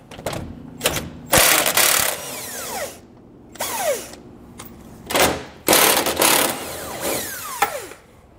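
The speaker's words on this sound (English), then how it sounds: "18 millimeter size socket is what I'm gonna grab and we're gonna pull off" An 18 mm socket on a ratchet works a nut off the frame of a 2022 Ram 1500, heard as loud close bursts of rapid clicking ratcheting, separated by short pauses.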